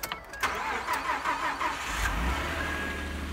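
A car starter cranks at minus eight degrees on a cold morning, a few quick clicks followed by a faint, wavering whir as the engine turns over slowly, then a low rumble that may be the engine catching.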